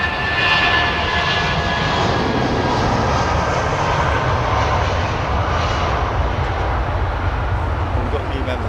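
Jumbo jet engines roar steadily at London Heathrow Airport, a loud continuous broadband rush with a whining tone, filling the whole stretch without letup.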